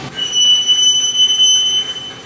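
Steel ring about 36 inches across squealing as it is bent in a 3-roll roller: a steady, fairly loud high-pitched metallic whine with sharp overtones, holding on for about two seconds with no speech.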